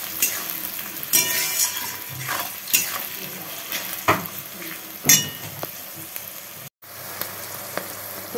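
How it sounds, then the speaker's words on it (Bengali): Capsicum and onions fry in a pan with a steady close sizzle while a utensil stirs and scrapes, giving several sharp metallic clinks at intervals. "ভালোভাবে ক্যাপসিকামটাকে ভেজে নেব।"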